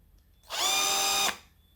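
A KIMO cordless drill driver spins up sharply and runs at full speed with a loud, steady high whine for under a second, then cuts off abruptly, alone in a quiet room.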